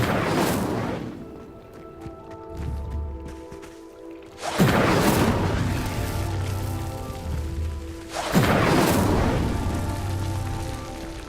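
Incendio fire spell cast three times in Hogwarts Legacy, each a loud whooshing burst of flame that flares suddenly and then settles into a crackling roar, with a low tonal game-music hum continuing underneath.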